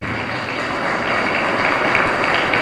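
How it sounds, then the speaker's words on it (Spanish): A congregation at Mass in a chapel claps loudly and continuously, a dense even roar of many hands filling the room from start to finish. "un fuerte aplauso para nuestra comunidad"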